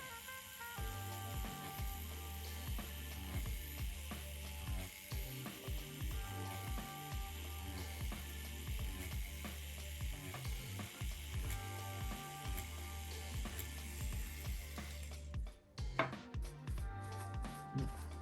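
Tattoo machine fitted with a magnum needle shading on a banana, a close, continuous mechanical buzz with rapid ratcheting pulses and small shifts in pitch as the work moves, ending in a few short bursts.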